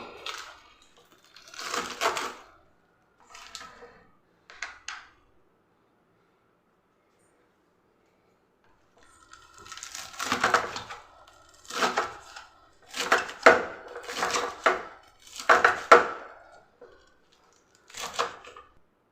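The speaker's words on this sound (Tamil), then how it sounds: "பாலக்கீரை வெட்டியாச்சு அங்கே சூப்பராக வெட்டியாச்சு" Knife chopping washed spinach (palak) stems and leaves on a board, a few short bursts of close cutting taps, a pause, then a longer run of irregular, fairly loud chops.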